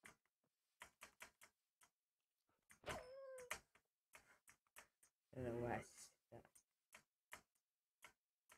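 Video game dogs whimper and yelp in two short bursts amid a steady run of quick tapping clicks, all quiet and close.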